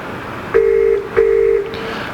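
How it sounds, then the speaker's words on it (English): Two short electronic ring tones of an incoming call on a Polycom HDX video conferencing system sound in succession, each a steady beep lasting under half a second, clear and close. "So you'll hear the ringing sound."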